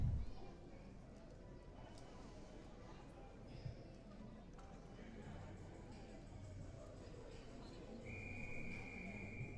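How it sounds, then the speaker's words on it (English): A referee's whistle at a high school ice hockey game rings out as a clear, sustained tone near the end, over arena crowd noise, skating scrapes and ongoing play-by-play commentary. "Whistle and a penalty called."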